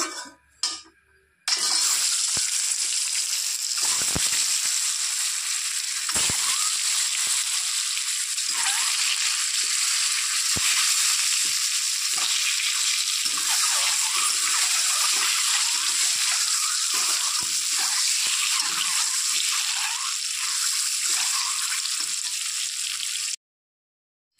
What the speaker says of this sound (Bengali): তেল গরম হয়ে গেছে, দিয়ে দিচ্ছি নুন, হলুদ, ডিমগুলোকে আমি এখন ভেজে নেব।